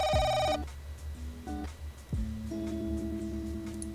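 Electronic telephone ringing in a Korean life-simulation video game, a tonal ring burst at the start followed by shorter chime-like tones and a sustained melodic ring, loud and close with no talking.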